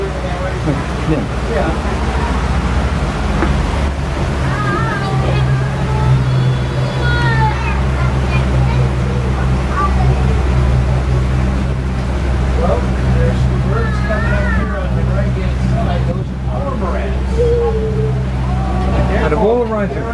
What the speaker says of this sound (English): it looks like it's a Yamaha outboard motor. I think there's 2 of them now.